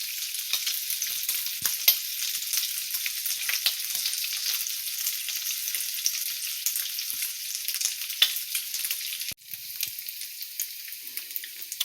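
Bacon frying in a pan: a dense, continuous crackling sizzle with scattered pops, steady and close, with one brief dip when the grease is disturbed.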